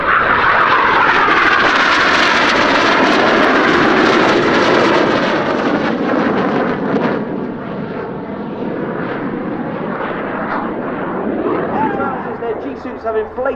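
Red Arrows jets of the synchro pair crossing in an opposition barrel roll at an air show at Leeuwarden air base, a loud roaring jet rush that swells, peaks and then fades into a softer, distant rumble.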